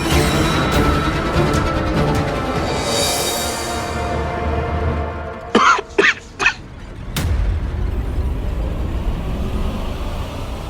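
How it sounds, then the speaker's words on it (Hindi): Three quick, sharp coughs break out in the middle of a quiet scene from a devotional drama about Maa Vaishnodevi, set against low ambient hum. "प्रेत हमारी तरह कब से खांसने लगे?"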